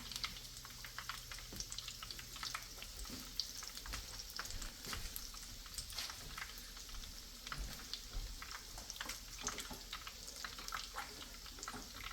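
Buns and dumplings frying in a pan, a steady crackling sizzle with scattered pops and spatters running throughout, fairly quiet and close.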